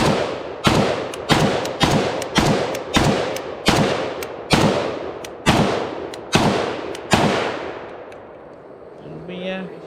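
A Zastava gun empties its last magazine in about ten loud, evenly spaced close shots, each with a ringing tail, followed by quieter handling noise.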